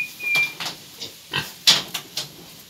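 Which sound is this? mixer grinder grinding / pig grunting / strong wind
pig grunting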